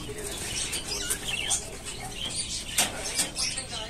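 Pet English budgies, cockatiels and parakeets in a flying cage give off scattered chirps and tweets with soft wing flutters, a busy mid-level chatter of small birds throughout.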